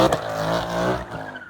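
A supercharged 2018 Ford Mustang GT is driven hard, its engine roaring loud and close with a steady, strained harmonic drone that fades slightly near the end.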